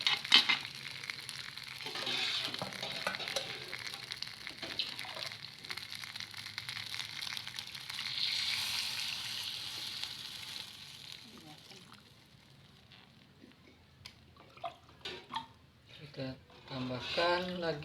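Spices for Sate Padang sauce sizzle as they sauté together with meat broth, a steady hissing fry that runs under ongoing talk and quiets briefly near the end.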